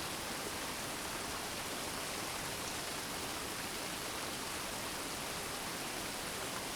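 Steady rain falls in a dense, even hiss with no pauses or variation, a soft, constant wash of drops that continues alone throughout without voices.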